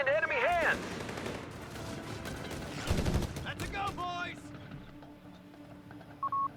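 Bursts of rifle and machine-gun fire from a Company of Heroes 3 battle, soldiers engaging a Sherman tank, crackling in rapid volleys amid game effects and warbling tones, with a brief loud blast midway and a short beeping signal near the end.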